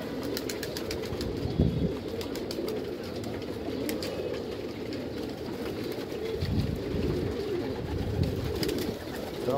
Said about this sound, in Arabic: وادي الحمام بتاعنا اهو